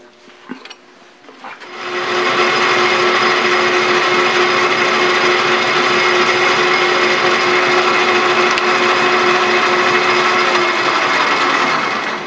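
A metal lathe cuts a small chamfer on a piece of metal stock, a loud, steady, close machining drone that starts after a couple of seconds and runs without a break, with no talk over it.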